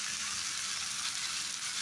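Yardlong beans fry in a pan with a steady, soft hiss and sizzle that holds evenly throughout, with no talking.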